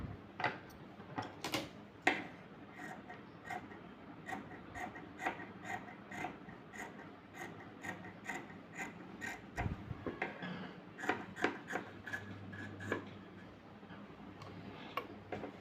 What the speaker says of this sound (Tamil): இந்த எக்ஸஸாக உள்ள கிளாத்தை வந்து நம்ம கட் பண்ணி எடுத்துடலாம்